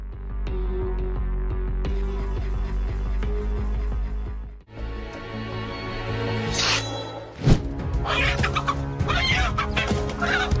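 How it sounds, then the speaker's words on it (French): A hen fiercely defending her chicks against an eagle clucks in rapid, rhythmic bursts, loud and close, over a low droning background, with a sharp scuffle partway through. "Cette poule défend ses poussins contre un oiseau de proie avec tant de férocité"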